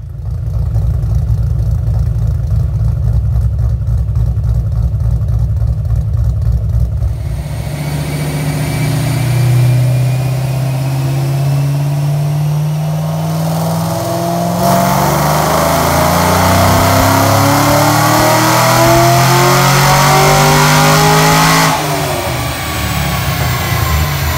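A 2008 Mustang GT with a Roush supercharger, Pypes headers and Detroit Rocker camshafts revving on a dyno: a loud low idle, then a long wide-open pull with rising engine pitch and supercharger whine, easing off near the end.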